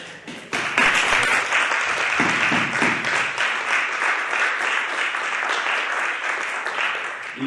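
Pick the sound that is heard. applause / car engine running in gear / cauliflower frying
applause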